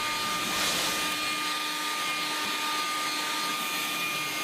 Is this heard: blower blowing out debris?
yes